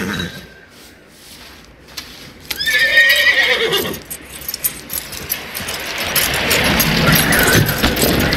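A horse in Red Dead Redemption 2 gives a loud, close whinny, followed by shuffling hoof clops and rustling movement under steady ambient noise.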